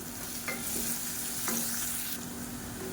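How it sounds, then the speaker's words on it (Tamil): Finely chopped onions, three large ones with salt, sizzle steadily in a pan while being stirred, a close continuous frying hiss with a few scraping strokes of the spoon. "இப்போ இதில் மீடியம் சைஸாக 3 பெரிய வெங்காயம் பொடியாக சாப் பண்ணி வச்சதை சேர்த்துக்கலாம்."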